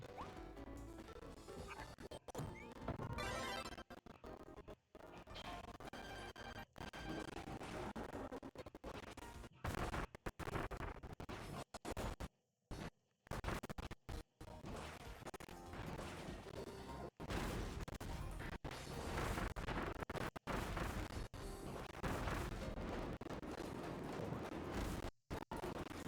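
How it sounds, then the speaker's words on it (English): Bomb ability explosions in Kirby and the Forgotten Land chain together as a dense run of crashing, thumping blasts over busy game music and effects, with only brief silent gaps. "I do love this bomb ability because you just chain it together and it does like a lot more damage"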